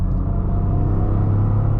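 Toyota GR Corolla's turbocharged three-cylinder engine building revs under acceleration, a steady loud low rumble heard from inside the car with no talk over it.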